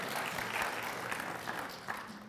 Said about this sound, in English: You could have clapped for UNM.